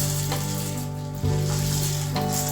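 Sago pearls dropped into hot oil in a pan fry with a loud, steady, continuous sizzle that swells slightly at moments, close up with no talking.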